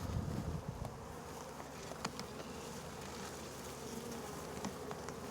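A swarm of bees is being gathered into a swarm box during a bee rescue. The dense, steady buzzing stays close and continuous, with a few faint clicks and taps and no talking.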